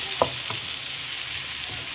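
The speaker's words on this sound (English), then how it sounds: "We're going to cook this in high heat without closing the lid." Okra, or ladies' finger, stir-fries uncovered in a pan on high heat, a constant close sizzle broken by a few soft stirring scrapes and taps, with no voices.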